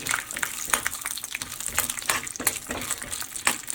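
Peanuts roast in about three tablespoons of hot oil in a pan over a medium flame, a soft crackle broken by rhythmic scraping strokes of a spatula.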